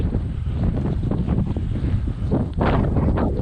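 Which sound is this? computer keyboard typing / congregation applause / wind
wind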